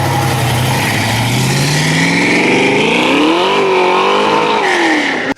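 De Tomaso Pantera GTS sports car engine, loud and close, revving steadily upward in pitch through a long acceleration before cutting off abruptly.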